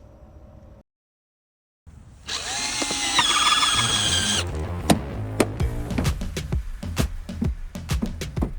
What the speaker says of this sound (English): Time to drill on this other panel.